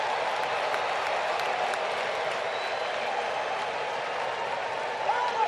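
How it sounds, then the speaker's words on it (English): Big baseball stadium crowd at a Brewers vs Braves game, a steady wash of cheering and applause sustained throughout, loud and dense, with no voices standing out. "Big crowd cheering him on."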